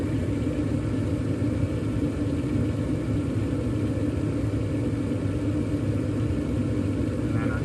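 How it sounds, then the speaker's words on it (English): A gas furnace inducer motor runs steadily during start-up, with the furnace powered from a car battery in a power outage: a constant low hum and rumble, close and even, with no talking. "our inducer motor just kicked on"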